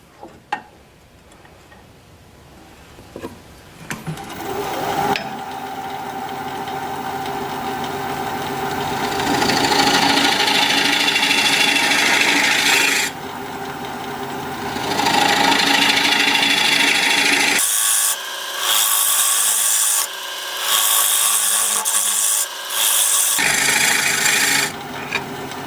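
An olive wood bowl spins on a lathe as a turning tool cuts into it, giving a loud, continuous scraping rasp broken by short pauses and some lighter ticking contact at the start.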